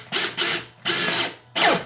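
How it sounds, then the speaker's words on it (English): A Makita LXT brushless drill driver drives a screw at high speed in three short whirring bursts with brief pauses between them, close and clear, with no voices. "That sunk the screw almost 1/8 of an inch there."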